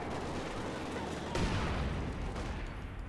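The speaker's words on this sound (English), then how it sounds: "Mortar fire coming in on the conscripts and also the commissar." Mortar fire in the Company of Heroes 2 video game, a dense rumbling barrage of blasts and gunfire, with one sharper impact partway through the continuous battle noise.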